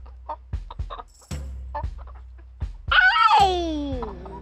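Backyard hens cluck in short, close bursts, ending in a louder drawn-out squawking call, with quiet gaps between.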